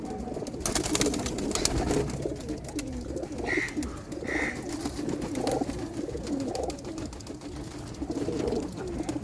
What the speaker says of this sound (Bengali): কবুতরগুলো অনেক ফার্স্ট ক্লাস কবুতর।